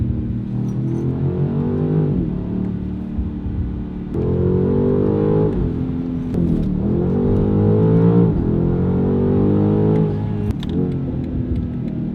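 BMW G90 M5 with a Valvetronic Designs valved sport exhaust, heard from inside the cabin: a deep V8 drone rising and falling through several revving pulls and gear changes, loud and steady with no talk.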